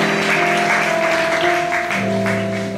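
A church congregation claps and cheers to welcome a visiting doctor as speaker, a dense steady patter held over sustained keyboard or organ tones that shift partway through.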